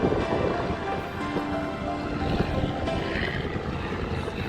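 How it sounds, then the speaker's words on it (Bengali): A trawler boat chugs past near Kumira ghat at Sitakunda in a steady, broad rumbling drone with wind buffeting the microphone throughout, no voices. "দেখছেন কিভাবে একটি ট্রলার চলে যাচ্ছে"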